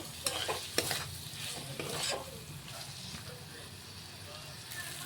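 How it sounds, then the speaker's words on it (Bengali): Shrimp, potatoes and spices are sautéed and stirred in a pan, with a continuous close sizzle and repeated scraping strokes of the utensil. "মশলাটা আমাদের চিংড়ি মাছ আলু দিয়ে ভালো করে আমরা কষিয়ে নিলাম।"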